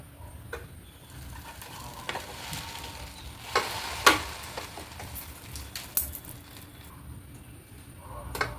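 Vegetable sandwiches set into a preheated electric sandwich maker give a faint, steady sizzle with soft scraping and light clicks close by, and no one speaks.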